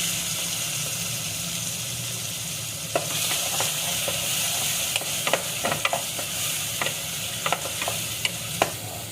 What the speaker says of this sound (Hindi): ये देखें, टमाटर को भी मैंने थोड़ा भून लिया है